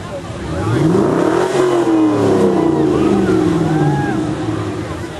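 A Corvette from a Buckeye Corvette club group revs loudly as it passes in a small-town canal days parade, its engine rising and falling in pitch across several seconds, close and dominant, with people talking nearby.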